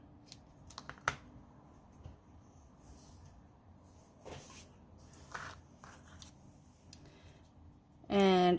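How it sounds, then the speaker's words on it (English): Scissors trim ribbon for a papercraft project: a few quick, crisp snips close by, followed by quiet handling noises and a brief louder rustle at the end. "I'm going to trim my ribbon here."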